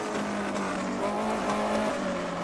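A 1958 Formula 1 car at Spa in a historic racing sim howls at high revs as the rear steps out under power on corner entry, a steady loud engine tone edged with a faint tyre scrub.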